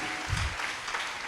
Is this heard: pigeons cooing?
no